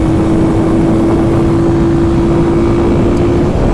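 A Kawasaki KLX300 dual-sport motorcycle ridden along a twisty road gives a steady, loud engine drone, close up and mixed with wind rush, with no talking.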